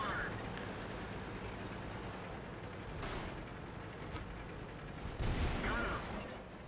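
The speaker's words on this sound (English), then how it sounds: "it's the same for the T-54 shooting at me" T-54 tank cannon firing in the World of Tanks game, a few sharp booming shots spaced several seconds apart over a steady background rumble, the last one loudest and closest.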